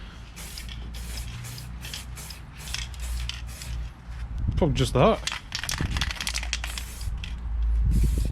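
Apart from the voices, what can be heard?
spraying plastic primer on motorcycle parts outdoors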